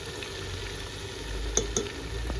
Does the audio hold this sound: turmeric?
yes